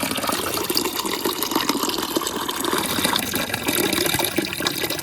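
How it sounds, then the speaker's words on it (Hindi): Water gushes steadily from a tap into containers on a rooftop, a continuous loud rushing and splashing fill with no talk. "मैंने सोचा पानी भर दूँ।"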